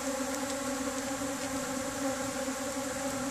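Steady droning buzz of many leafcutter bees at work in a field, constant and close, with no voices or pauses.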